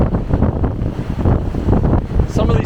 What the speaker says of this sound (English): The wind's actually picked up even more.